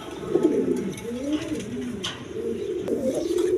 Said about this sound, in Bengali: এক পেয়ার হলুদ কালার বোম্বাই কবুতর আছে